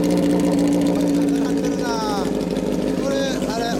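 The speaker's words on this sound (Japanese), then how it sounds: "エンジン音聞かせてもらえる？" A 1992 Kawasaki Zephyr 400 with a Pretty aftermarket muffler runs steadily at idle, a close, even engine hum while people talk nearby.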